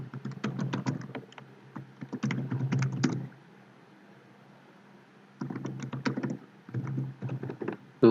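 Keys on a computer keyboard clatter as a username and password are typed, in quick uneven bursts of clicks split by a quiet pause near the middle.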